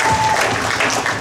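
Wedding reception guests applaud the hostesses and ushers, a brief burst of many hands clapping together at moderate distance.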